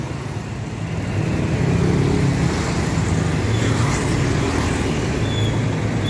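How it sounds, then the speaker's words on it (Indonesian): A Solo Trans city bus rolls past a roundabout in Kartasura at dawn, its engine a broad steady rumble over constant traffic noise, rising after the first second and holding loud and close to the end. "Dan ada bis Solo Trans."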